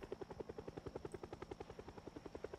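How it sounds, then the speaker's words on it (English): Helicopter hovering overhead in Project Zomboid, a steady rapid rotor thumping with an even pulsing rhythm, loud and continuous with no talk. "this helicopter is going to stay above us"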